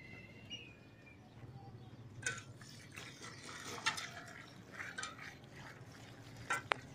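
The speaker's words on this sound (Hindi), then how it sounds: "पानी डाल रहे हैं।" Water being poured and stirred into a pit of cement and soil outdoors, with soft splashing, trickling and a few sharper sloshes, fairly quiet and close, birds faintly audible.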